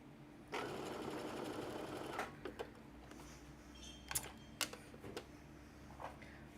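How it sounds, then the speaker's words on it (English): A sewing machine stitching two fabric pieces of a bag together, running in a steady burst for about two seconds, then a few short stops and starts with clicks and taps, close and fairly quiet. "I only want to sew these two together."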